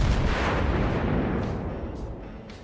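Heavy naval gunfire booms in World of Warships during a cruiser and battleship engagement: a loud, broad blast that rolls and rumbles, then slowly fades.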